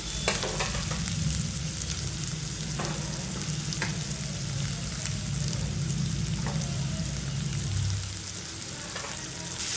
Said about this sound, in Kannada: ಈರುಳ್ಳಿ ಎಣ್ಣೆಗೆ ಹಾಕೊಂಡು ಹುರ್ಕೊಳ್ತಿದ್ದೀನಿ.